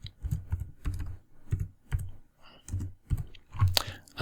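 Close, crisp keystrokes on a computer keyboard, an irregular run of about a dozen taps with short pauses between, ending in a sharper cluster, no voices.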